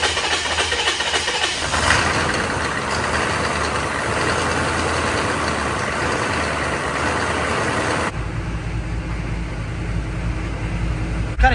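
A diesel truck with a cheap eBay turbo idles on a cold start, its V-band clamp bolted straight to the factory exhaust with no pipes fitted. A loud, steady, rough rumble runs throughout, and its tone shifts noticeably near the end.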